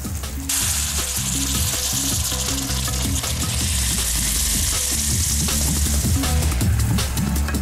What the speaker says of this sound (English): Boiled water going in.